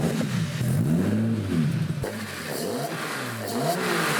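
A Jaguar E-Type built in the style of a 1960s race car, fitted with programmable electronic fuel injection, revs its engine loudly in repeated rising and falling sweeps, close and steady throughout with no talk.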